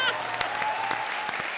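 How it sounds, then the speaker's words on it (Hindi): Studio audience applause on a Hindi comedy show, brief and busy clapping with a few sharp claps standing out, while a steady tone hums beneath it. "जोरदार तालियां।"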